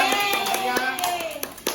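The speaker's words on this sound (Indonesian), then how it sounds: "Beri tepuk tangannya untuk berdia" A group clapping hands in a classroom or school hall in Indonesia, brisk overlapping claps at close range, with a voice talking over the clapping throughout.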